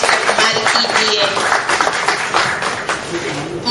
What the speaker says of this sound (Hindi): जोरदार तालियों के साथ उनका इस्तेमाल कीजिए